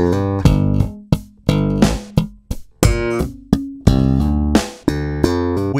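Slap bass guitar plays a full bar of a stomp-style groove: sharp percussive thumb slaps and popped notes in a quick syncopated rhythm, loud and close, with no talking.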